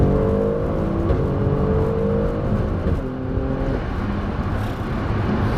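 An Alfa Romeo Stelvio Quadrifoglio accelerates hard on an open road, its engine note climbing steadily through the gears with brief dips at the shifts, loud and close with no talking.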